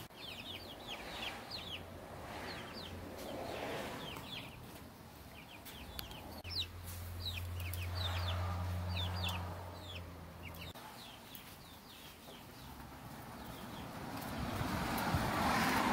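Several chickens cluck and chatter steadily at a farm, a dense run of short calls at moderate distance with low rumbling background noise throughout and no talking.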